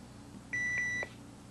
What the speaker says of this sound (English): Did you hear the two beeps?